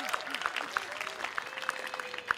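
Scattered, fairly steady hand claps from a keynote audience at an annual food sovereignty gathering, with a thin whoop or whistle of cheering mixed in, faint and somewhat distant.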